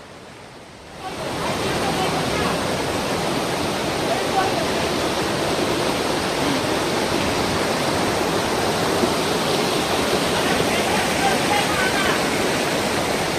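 A mountain river in Sikkim flows with a loud, steady broadband rush of water, close and continuous after a brief quieter start, with no voices over it.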